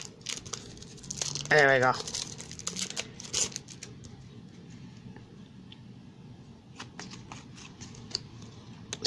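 Panini Premier League 2019/20 trading card packs being opened and the cards handled, with soft crinkling of foil wrappers and light shuffling and flicking of cards close up while someone briefly speaks.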